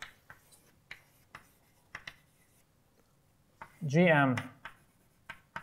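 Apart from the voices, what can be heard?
writing on a board during a lecture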